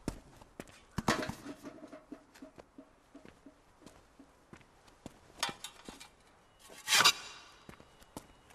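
A horse's hooves clip-clop in irregular, scattered knocks, some sharp and close, with a louder burst of movement partway through, over a quiet background.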